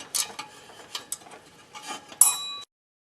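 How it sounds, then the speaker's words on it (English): Ratchet wrench backing out water pump bolts on a 2000 Dodge Ram 2500, a few close, quick clicking ratchet bursts and metallic ticks, then a brief bright metal clink before silence. "Right, so we'll just ratchet them out of here now."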